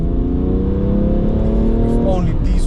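Diesel 2014 BMW 335d xDrive Touring F31 estate with Stage 1 tune accelerating hard, a loud, close engine drone whose tone climbs steadily, then shifts as it changes gear, with a voice speaking over it.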